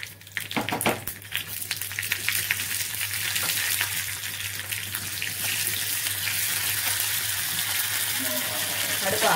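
Mustard seeds and urad dal spluttering in hot oil while tempering for hotel-style bisi bele bath, a dense steady crackling sizzle with a few sharp pops early on, loud and close.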